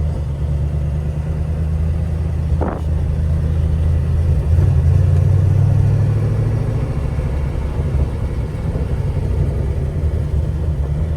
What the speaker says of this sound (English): Let's go for a quick drive.